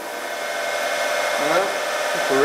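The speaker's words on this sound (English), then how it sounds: "we're just going to grind to the center" A grinder runs continuously against a surface plate, giving a loud, steady whirring roar with a few rising and falling tonal whines near the end and no voices.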